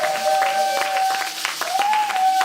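A church congregation applauds and cheers loudly for God during a prayer service, with steady clapping under a sustained sung or shouted tone that wavers in pitch.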